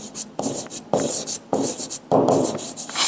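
Chalk or marker writing on a classroom board during a lecture, in quick bursts of scratchy strokes separated by short pauses, close and clear with no talking.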